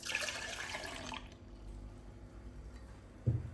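Milk is poured for an iced caramel coffee, a close liquid splash and trickle that lasts about a second, then fades to quiet room tone with a soft knock near the end.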